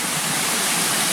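A Tennessee waterfall roars in a steady, dense wash of falling water, loud and continuous throughout, with no voices over it.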